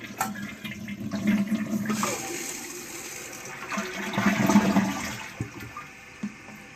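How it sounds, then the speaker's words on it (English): A Kohler San Rafael K3467 toilet with a replaced flush valve flushes with a rushing swirl of water that gurgles and drains, then the tank begins refilling with a softer hiss. "Let's give it a flush and see how it's working."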